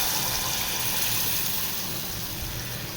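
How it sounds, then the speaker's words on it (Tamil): Tamarind water poured into fried masala for a Tamil fish kulambu, a steady continuous liquid rush and sizzle filling the whole moment, loud and close with no voices. "புளி தண்ணி, அதை மசாலாவோடு சேர்த்து இதை ஊற்றிடலாம்."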